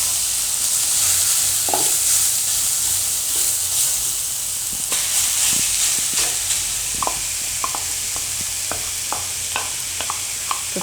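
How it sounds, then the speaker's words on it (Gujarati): Grated beetroot frying in hot oil in a home kitchen, a steady loud sizzle and hiss throughout, with scattered light clicks of stirring toward the end. "તેલ આપણું ગરમ થઈ ગયું છે, તો એમાં આપણે આ બીટ નાખી દે હું છીણેલું"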